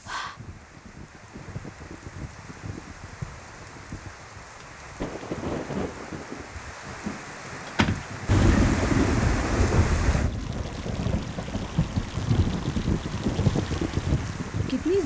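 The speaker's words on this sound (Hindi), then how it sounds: "कितनी ज्यादा बारिश हो रही है।" Heavy rain falls steadily with rolls of thunder, a dense roar that swells louder partway through and keeps going without voices.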